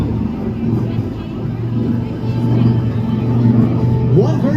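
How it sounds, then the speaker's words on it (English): A B-25 bomber flies a simulated attack run at an air show, its piston engines a steady low drone that grows slightly louder as the aircraft approaches, with crowd ambience around it. "Listen to the sounds of the B-25."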